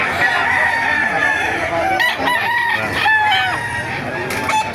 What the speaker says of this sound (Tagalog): Napakarami manok ngayon dito.